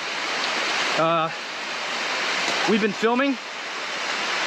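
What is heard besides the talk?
pouring rain in the jungle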